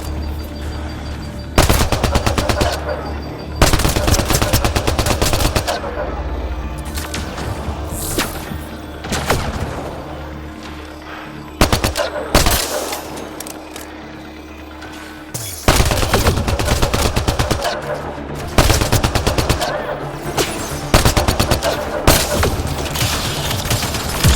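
Rapid automatic gunfire from the video game Mass Effect Andromeda comes in loud bursts separated by brief pauses, with thumps and booms mixed in during a combat sequence.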